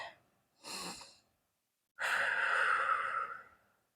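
Two breaths come during a glute stretch in a dumbbell workout: a short airy inhale, a pause, then a longer, louder sighing exhale that fades out, close and alone.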